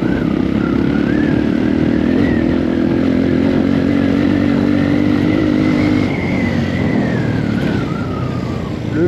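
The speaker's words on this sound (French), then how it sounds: "J'ai sorti mon petit enduro pour lui dégourdir les roues là un petit peu." Enduro motorcycle on a dirt mountain track in Madagascar, engine droning loud and steady close by with small rises and dips in pitch as the rider works the throttle, no talking.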